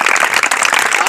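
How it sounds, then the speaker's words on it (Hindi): Audience at a stadium running event bursts into loud, sustained applause, a dense wash of many hands clapping together throughout. "जोरदार ताली हो जाए।"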